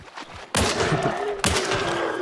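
Gunfire in Hunt: Showdown, two loud, sudden blasts about a second apart, each followed by a long rumbling echo that fills the space.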